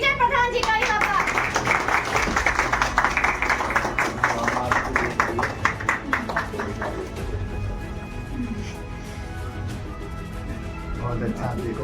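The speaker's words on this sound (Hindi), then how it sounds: "हम तालियों के साथ में स्वागत करते" An audience claps together to welcome Vijay Pradhan on stage at a New Year celebration. The steady crowd applause is strongest early on and fades gradually, with speech and music mixed in.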